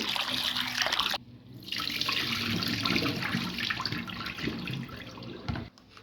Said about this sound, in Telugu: బియ్యాన్ని ఇలా బాగా కడుక్కోవాలి